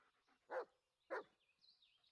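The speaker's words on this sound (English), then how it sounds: "All right, what you barking for?" Two short, sharp dog barks in the video game Blair Witch, about half a second apart, moderately close, followed by faint high whining tones.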